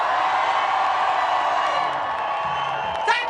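Rally crowd in Bristol cheering and whooping for Labour and Jeremy Corbyn, a dense, steady roar of many voices with shouts rising out of it, holding loud throughout and swelling briefly near the end.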